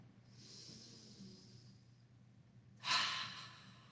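Breath flows out during a chair yoga class: a soft, airy exhale, then after a pause a sharper, louder breath out, close and alone without talk.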